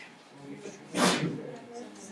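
In a classroom, a single sharp sneeze bursts out about a second in, loud against a background of faint voices talking.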